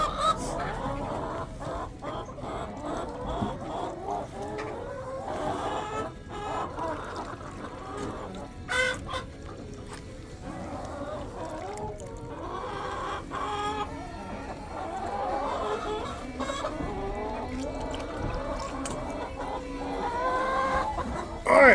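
Chickens cluck and murmur continuously nearby, a busy flock chattering over steady low background noise with occasional sharper squawks, on a day of arctic storm.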